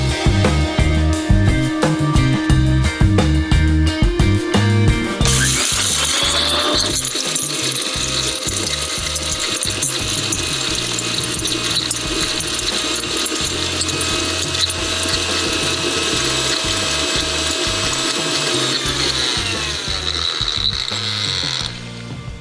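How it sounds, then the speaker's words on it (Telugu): A mixer grinder grinds roasted masala, onion and garlic into a paste, a loud, steady mechanical whir with rattling that starts up, runs continuously for about twenty seconds and cuts off. "మనం ముందుగా రోస్ట్ చేసి పెట్టుకున్న మసాలాస్, ఆనియన్ ఇంకా గార్లిక్ మనం గ్రైండర్ లో గ్రైండ్ చేసి ఒక పేస్ట్ లాగా చేసి పెట్టుకుందాం"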